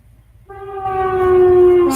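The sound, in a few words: passing train horn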